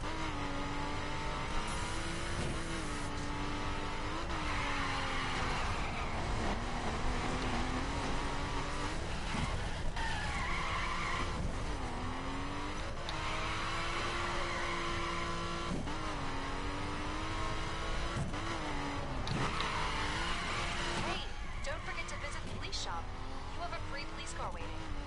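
A car engine in the GTA video game revs hard and keeps up a loud, continuous roar that rises and falls across the whole stretch, with a voice talking over it at times.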